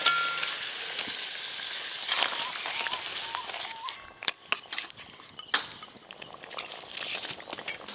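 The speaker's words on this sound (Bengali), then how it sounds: "ঝোল ভালো করে ফুটে গেছে, ভেজে রাখা সব মাছগুলো দিয়ে দেবো।" Fried river chela fish dropped into a boiling, spicy oil-based curry broth gives a steady close sizzle and bubbling hiss, loudest early, with scattered utensil clinks and sharp taps partway through and no talking.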